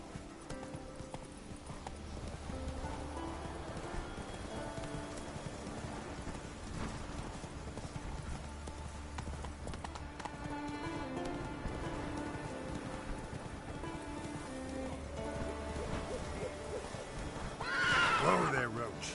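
Horse hooves clip-clop over ground with repeated neighing and whinnying in The Witcher 3, a rider's voice speaking over them, rain and faint thunder in the background, and a sharper burst near the end.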